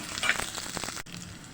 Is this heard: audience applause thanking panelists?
no